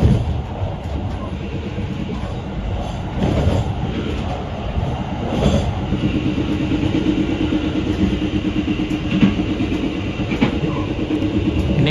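KA Taksaka passenger train between Jogja and Jakarta, heard from inside: a loud, steady rumble of wheels on rails with scattered clicks and joint knocks throughout, no talking.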